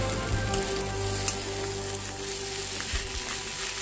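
Spices fry in a pan with a continuous, fairly loud crackling sizzle and a few sharp pops, with a steady hum underneath.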